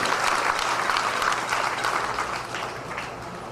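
A hall full of people gives a sustained round of applause at a Ganesh Utsav festival gathering, thick, continuous clapping that holds strong and then eases slightly toward the end.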